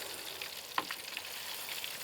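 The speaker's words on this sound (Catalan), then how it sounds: "anirem fregint" Steady frying sizzle from a pan of garlic and artichokes, a continuous hiss with a few brief clinks of a utensil partway through.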